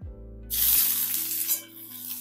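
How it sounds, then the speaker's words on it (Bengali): Dried red chili and a small onion hit hot oil with a sudden loud sizzle that surges then steadies into continuous crackling frying, with stirring and no talk. "শুকনো লঙ্কাটা আমার লাল লাল হয়ে গেছে, আমি একটা মিডিয়াম সাইজের একটা ছোট পেঁয়াজ দিয়েছি।"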